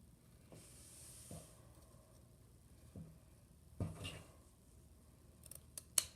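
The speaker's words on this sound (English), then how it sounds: "I like to cut in the crook of my scissors." Scissors snip through felt to make a looped fringe for a flower headband, several quiet, separate cuts spaced a second or so apart in a hushed room, with a sharper snip near the end.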